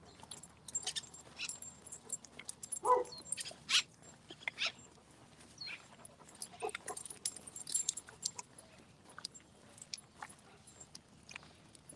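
Two dogs pull a man on a longboard during a walk, heard faintly at a distance as scattered yips, whimpers and jingling tags or keys against quiet outdoor background.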